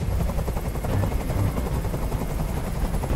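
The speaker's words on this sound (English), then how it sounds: "Tell that helicopter to get out of here!" A helicopter hovers nearby in the video game Detroit: Become Human, its rotor producing a steady low chopping thump with a continuous engine drone, loud and unbroken.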